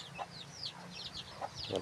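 A large fighting rooster kept on a backyard farm clucks in short repeated bursts, close and fairly quiet, with no talking.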